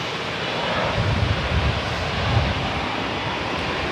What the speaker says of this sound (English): Here's our CRJ 700 off to Ronald Reagan International.